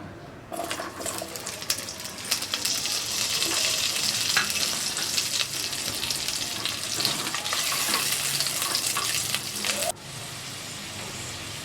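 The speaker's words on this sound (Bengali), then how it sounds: "এবার আমি আলুগুলো ভেজে নেব" Potatoes frying in oil in a karahi for a Bengali begun aloo ilish macher jhol, a steady, loud, close crackling sizzle with occasional stirring scrapes that drops sharply near the end.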